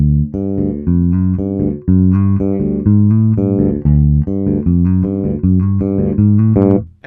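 An electric bass plays a steady bouncing country bass line of low plucked notes with open-string tones, clear and close with no voices.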